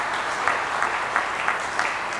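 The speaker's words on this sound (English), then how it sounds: "Let's clap for him, for her." An audience at a policy lecture on climate action claps, a broad continuous patter of many hands with a faint recurring rhythm of louder beats, sustained across the whole stretch without speech.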